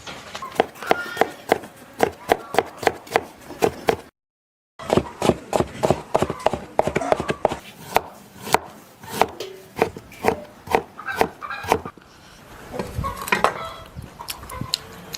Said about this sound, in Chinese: 现在把羊角和猪瘦肉切成丝儿